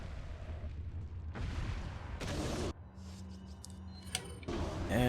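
Flash grenades going off in Resident Evil 4: a few loud, sharp bursts of broadband noise break through ongoing game sounds, with short quieter gaps and metallic clinks in between, close and dominant.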